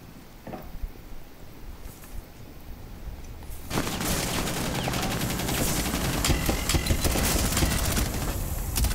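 Video game gunfire bursts out in a loud, dense rapid-fire stretch after a few seconds of quieter play, sustained volleys continuing to the end.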